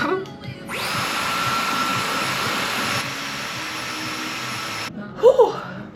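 A hair dryer switches on and blows with a steady high-pitched whir for several seconds, then cuts off, followed by a brief voice.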